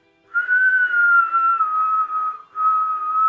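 A voice imitates the whistle of a falling bomb: a loud, sustained whistled tone that slides slowly downward for about two seconds, breaks briefly, then resumes at a low pitch.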